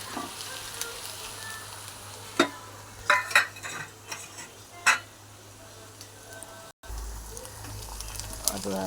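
Chopped onion frying in a pan with ginger-garlic paste about to join, giving a steady low sizzle broken by several sharp clinks and scrapes of a spoon against the pan.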